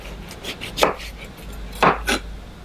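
A knife cuts eggplant into thin slices on a cutting board, giving several crisp, close chops in an uneven rhythm, two of them louder near the end, with no voices.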